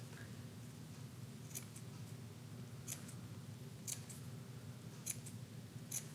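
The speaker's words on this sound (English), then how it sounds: "I'm going to take my scissors and make little cuts just right up to the edge of my freezer paper" Scissors make small snipping cuts into fabric up to the edge of freezer paper for a textile art piece, a handful of faint, sharp clips spaced a second or so apart over a low steady room hum.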